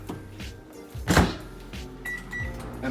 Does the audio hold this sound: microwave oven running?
yes